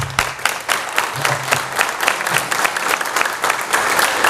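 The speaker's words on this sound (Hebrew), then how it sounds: "אם אתם מוחאים כפיים," An audience at a sermon in Tel Aviv claps steadily, a dense, loud patter of many hands that carries on without pause.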